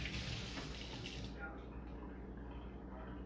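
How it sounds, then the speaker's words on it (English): Running tap water pours steadily over scallion roots being rinsed in a kitchen sink for a veggie chili. The flow is close and continuous, with its brighter splashing easing partway through. "Rinse out the roots."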